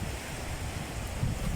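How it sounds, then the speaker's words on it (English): Ocean surf at low tide sends small waves washing onto the shore, a steady close rush of water with wind noise buffeting the microphone and a slightly stronger surge near the end. "Waves like this one that just ended here."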